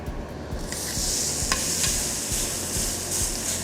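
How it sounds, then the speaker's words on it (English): Loud, steady sizzling of steak searing in a hot pan, with a couple of sharp crackles and pops. "You wanna make sure you hear that sizzle when it hits the pan."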